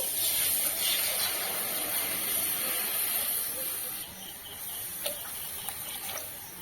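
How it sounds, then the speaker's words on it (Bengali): Water poured into a hot, empty wok sends up a steady, loud hiss of steam that gradually softens, with faint bubbling and a few small clicks near the end. "কড়াইটা গরম হয়ে গেছে জল দিয়ে দিচ্ছি"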